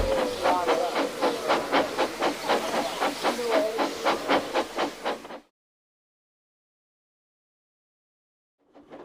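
Thomas the steam engine sets off with rhythmic, loud chuffs of hissing steam for about five seconds, then falls silent before a faint hiss returns.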